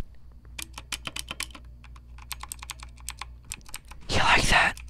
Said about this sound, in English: we're going to do an ASMR video of a mechanical keyboard